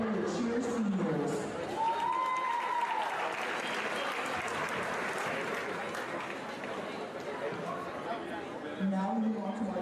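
Applause and cheering greet the cheer seniors at a high school basketball game, a steady wash of clapping and crowd noise with occasional whoops across the whole stretch, fairly distant in a gym.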